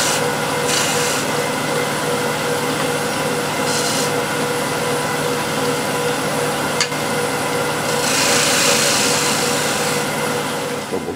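A lathe turns a bead on a wooden bowl. A steady whirring drone runs under a continuous scraping rub, with brighter hissing bursts as the gouge cuts into the wood.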